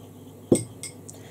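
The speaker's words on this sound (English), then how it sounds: "I have my iced coffee in my strawberry glass with my metal spoon." A metal spoon clinks against a strawberry-patterned glass of iced coffee: one sharp, close ring at the start, then two lighter taps fading after it, heard alone.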